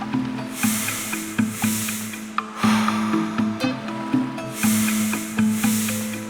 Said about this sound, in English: We are going to be breathing in 2 steps, first into the belly, then into the chest.